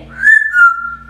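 A grey parrot whistles a brief, clear two-part tone, rising then sliding slightly down, loud and close with no talk over it.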